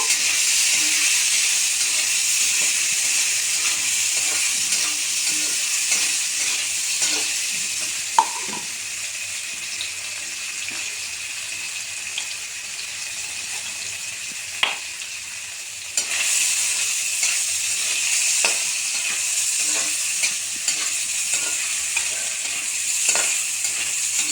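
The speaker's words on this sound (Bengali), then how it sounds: "এখন তেলটাতে ছেড়ে দেব, হালকা করে ভেজে নেব" Paneer pieces coated with turmeric and salt fry in oil with a steady, hissing sizzle close by, occasional sharp clicks of a utensil, and a louder surge of sizzling partway through, no talk.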